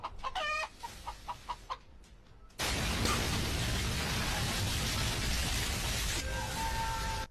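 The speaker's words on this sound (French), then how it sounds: "le KFC se fait attaquer par justement une armée de poulets" Chickens cluck and squawk in a quick series, then a loud rushing noise fills the rest, with faint bird calls underneath.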